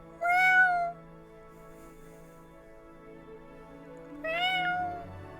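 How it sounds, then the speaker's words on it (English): An orange tabby cat meows twice, a clear, fairly close cry near the start and another after a few seconds of quiet room tone. "It is the cat."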